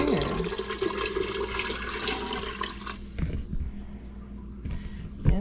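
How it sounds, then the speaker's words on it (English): Pickle brine for homemade hamburger pickles pours into a pot in a steady, loud liquid splash that stops abruptly after about three seconds, followed by quieter drips and handling noises. "So, then we're gonna pour it in here."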